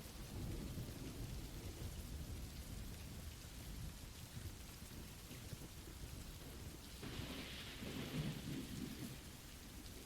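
Steady heavy rain pours down with deep rolling thunder rumbling throughout, a dense continuous wash of sound that swells slightly near the end, with no voices.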